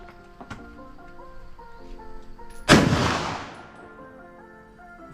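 A single loud gunshot bursts out at the Cu Chi Tunnel shooting range in Vietnam, a sharp crack followed by a long ringing decay over a steady background hum.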